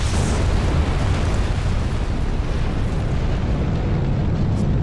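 Sustained heavy rumbling blasts and explosions from satellite cannons firing in the Armored Core VI game, a dense continuous roar filling the whole stretch with no pauses.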